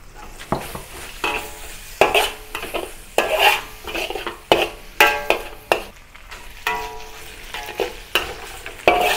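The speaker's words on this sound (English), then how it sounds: "Stir fry for a little while" Soybean paste sauce with sugar and salt, for Beijing zha jiang noodles, sizzles in a pan while a utensil stirs it in repeated bursts of scraping and clinking, close and fairly loud, with no voices.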